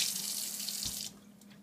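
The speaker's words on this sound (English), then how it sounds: "I need to wash my hands again in cool water" Hands being washed under cool running tap water at a kitchen sink, a short soft splashing hiss that cuts off after about a second.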